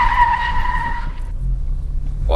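A 1984 VW Golf 1 Cabriolet Karmann brakes hard: close, loud tire squeal for about a second before cutting off, leaving a low engine rumble.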